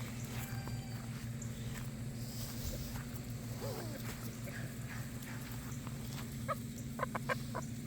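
Chickens cluck in a large farm flock, with steady low machinery or fan hum underneath, scattered nearby clucks and calls throughout, and a few sharper bursts near the end.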